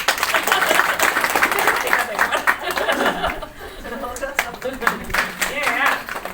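An audience at a homestay tourism congress claps for a senior homestay operator, a dense burst of applause mixed with chuckles and laughter that thins out partway through as voices and scattered claps continue.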